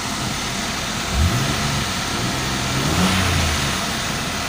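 A 2003 Nissan Maxima engine, recently cleared of a P1320 ignition-signal code, idles steadily right after starting, a close, even hum with a couple of gentle revs rising and settling.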